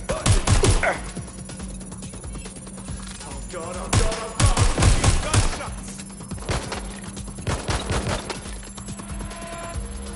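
Gunfire in the video game Watch Dogs Legion: loud sharp bursts of shots in clustered volleys, some rapid and overlapping, with a low game hum and background effects between them.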